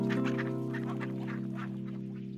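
A cartoon duck quacks in a steady nasal voice, sustained and fairly close over a soft background, with no other voices.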